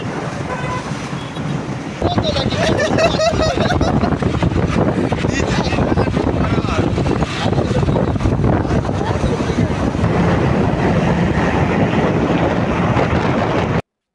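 Highway traffic along NH6 near Bishipur, Uluberia, roars steadily from a moving vehicle, with heavy wind buffeting the microphone and a brief horn toot early on; a voice talks over the noise.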